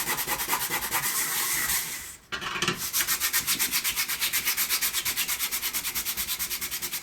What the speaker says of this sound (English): we're using a very old sanding block